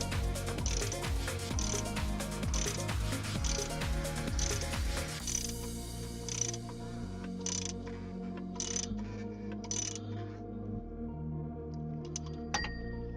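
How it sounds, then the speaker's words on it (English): A wrench tightens the oil filter housing on a Toyota RAV4, giving a run of quick metallic ratchet clicks in close repeated bursts, then slower separate clicks and a few light mechanical knocks, with no talk. "I tighten the filter with a wrench."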